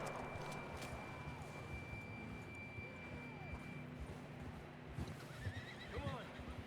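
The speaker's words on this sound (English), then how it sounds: "John was riding that horse when we left Blackwater" Horse neighs and whinnies in Red Dead Redemption 2, several calls rising near the end over steady hoof clip-clop and game ambience, with a voice talking across the scene.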